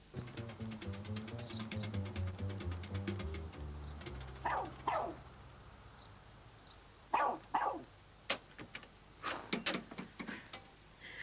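A dog barks in scattered single and double yaps at moderate distance, with a tinkling, ticking background at first and no talking.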